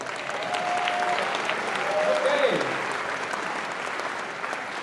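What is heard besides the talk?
audience applause for a math faculty member at convocation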